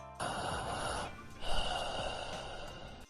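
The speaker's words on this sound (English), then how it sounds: "Please take a deep breath." A patient takes a deep breath during an abdominal palpation exam for the spleen: a long, close, airy inhalation, a brief pause, then another sustained rush of breath.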